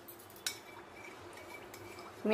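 A spoon stirring half a spoonful of salt into water in a bowl for soaking bitter gourd, giving a faint clink, a soft watery swirl, then another light clink.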